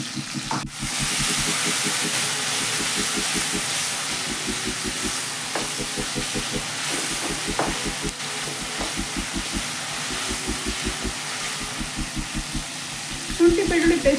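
Ginger garlic paste fries in a pan for a Kannada vegetable gravy, giving a steady close sizzle with rhythmic, regularly repeating pulses of stirring throughout and a slight rise near the end.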